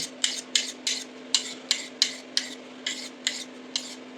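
A knife is stroked back and forth on a dark grey whetstone in a steady rhythm of about a dozen close, gritty swipes over a faint constant hum.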